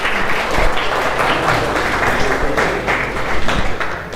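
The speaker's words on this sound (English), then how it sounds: "Let's clap for him." Audience clapping for a student at an interview preparation workshop, a steady dense patter of many hands at close range, with faint background sounds mixed in.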